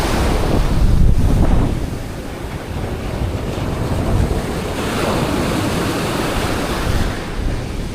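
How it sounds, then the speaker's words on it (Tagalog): Strong wind buffeting the microphone over the roar of surf and open water, loud and continuous with gusty swells. "Bumagsak ang hangin."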